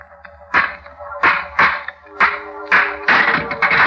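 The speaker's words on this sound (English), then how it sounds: "Smashed the lock." Several sharp metallic blows ring out as a stone smashes an old rusty lock, about six hard strikes in an uneven rhythm, close and loud, each with a brief ringing tail.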